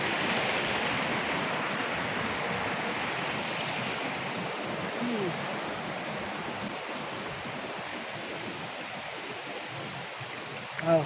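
A large river, Kali Gede, rushing steadily, a continuous broadband roar of flowing water at a moderate distance, unbroken for the whole stretch.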